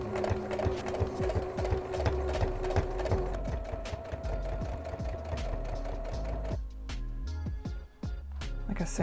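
A domestic sewing machine runs in steady bursts while stitching a rolled hem on a cotton daisy-pattern dress, its motor whir and needle clatter close and continuous, pausing briefly near the end.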